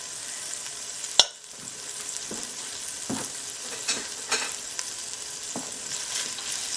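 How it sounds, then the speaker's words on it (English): Celery, onions and garlic sautéing in a pan give a steady sizzle and crackle, with occasional sharp clinks and scraping stirs of a utensil, close and unaccompanied by speech. "Now we're going to saute the vegetables."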